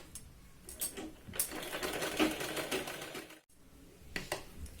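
A sewing machine stitches the shoulder seam of a child's sherwani. It runs in short quiet bursts of rapid clatter with brief pauses and a near-silent gap partway through.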